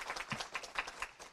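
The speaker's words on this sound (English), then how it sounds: "Big clap for her too, actually." Audience applause at a ceremony, a short burst of scattered, fairly faint clapping from a seated crowd.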